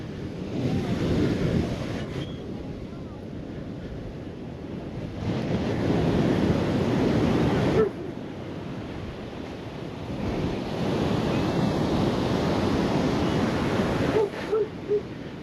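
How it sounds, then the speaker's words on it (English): Rough Pacific Ocean surf pounding Playa Las Peñitas beach in Nicaragua, a continuous loud roar of breaking waves rising and falling in surges, with wind buffeting the microphone throughout. "There's a strong riptide here, and there's strong waves."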